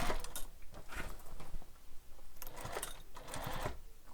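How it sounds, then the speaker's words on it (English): A sewing machine stitching around the lining of a fabric beach bag, rapid close mechanical whirring in short runs with a brief pause in the middle, no talking. "And I'm just sewing all the way around,"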